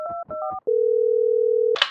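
A telephone being dialed to phone a friend: a few quick two-tone keypad beeps, then a single long steady tone holding for about a second before a brief noisy burst, with no talking.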